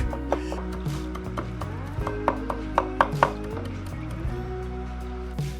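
Parsley being chopped with a knife on a board, a quick irregular run of sharp close taps over low background hum, no talking.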